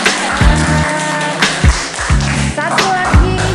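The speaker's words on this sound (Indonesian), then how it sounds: "Oke, aplaus dong." Applause and claps from a university lecture audience, a scattered cluster of hand claps ringing out near the microphone while a voice talks over them.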